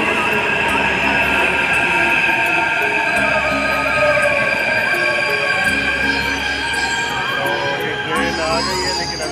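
A metro train pulls into a station with a loud, steady rumble, wheels grinding and squealing on the rails for the whole stretch, as voices murmur faintly in the background.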